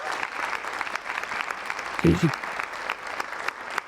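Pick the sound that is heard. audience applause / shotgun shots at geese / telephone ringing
audience applause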